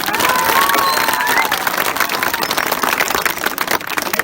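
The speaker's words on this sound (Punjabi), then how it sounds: "ਤਾੜੀਆਂ ਮਾਰ ਕੇ ਹੌਸਲਾ ਵਧਾ ਦੇ" Crowd applause and cheering at an outdoor political rally in a village square in Punjab, steady and fairly loud throughout, with scattered shouts mixed into the dense clapping.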